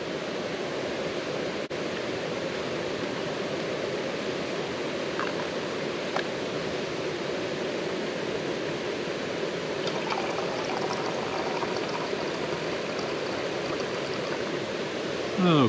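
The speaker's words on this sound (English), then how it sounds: "Now all the water's been poured and we'll just wait for this to drip through." Water trickling and dripping steadily through a filter at a wilderness campsite, a close, continuous wash of flowing water with no talk over it.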